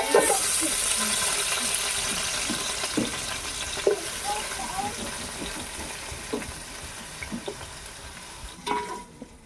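Mutton frying in hot oil in a village tribal-style kitchen, a steady hiss with repeated scraping stirs across the pan, close and fairly loud throughout, with occasional voices in the background.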